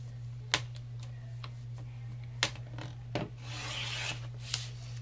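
A greeting card being trimmed: a few sharp clicks spaced through the clip and a soft, raspy cutting slide near the end, over a steady low hum in a quiet room.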